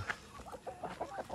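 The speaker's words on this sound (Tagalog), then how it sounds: "So ito yung mga manok" Chickens on a farm cluck softly in a quick series of short, low calls, fairly close but quiet.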